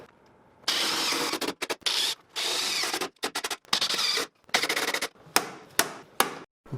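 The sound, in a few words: rivets being snapped in on snowmobile tunnel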